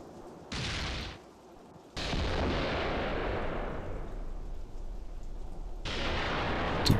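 Gunfire and shell blasts in the tactics game Graviteam Tactics: a short loud burst, then a heavy explosion with a long rumbling roar, and another blast near the end, with no voices.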